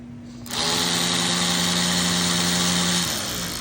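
A Hercules electric ratchet, worn from torture testing, whirs up and spins steadily for about two and a half seconds before winding down, close and alone.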